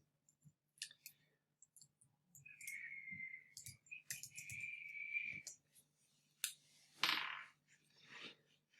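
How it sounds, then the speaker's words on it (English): A search term typed on a computer keyboard: faint, sparse clicks and taps in near silence, with some soft mouse clicks mixed in. "So I'm going to type that in."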